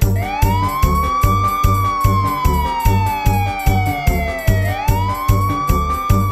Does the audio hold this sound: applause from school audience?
no